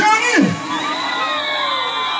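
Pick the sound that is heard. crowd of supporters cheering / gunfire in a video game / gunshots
crowd of supporters cheering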